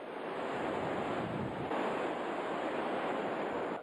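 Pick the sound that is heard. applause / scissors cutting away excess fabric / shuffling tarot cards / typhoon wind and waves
typhoon wind and waves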